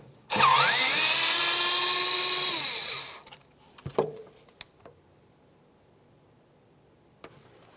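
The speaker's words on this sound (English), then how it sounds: "For this, we're going to use a T25 Torx bit." A power driver fitted with a T25 Torx bit whines loudly for about three seconds while driving a screw on a 2002-2005 Ford Explorer front shock and spring assembly, then stops, followed by a few clicks and knocks.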